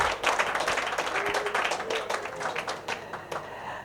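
Audience clapping at an awards gathering of African grandes écoles and businesses in Abidjan, a short burst of many hands that stays steady, then thins slightly toward the end.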